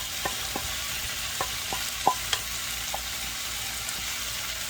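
Peppers and cabbage sizzle softly in a pot, a low steady hiss broken by several sharp spoon taps and scrapes against the pot as the vegetables are stirred.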